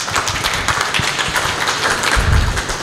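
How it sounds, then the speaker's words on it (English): A seminar audience at a Guru Nanak Institute event breaks into a steady, dense round of applause, loud and close, with a few heavier thumps mixed into the clapping. "Give a round of applause, please."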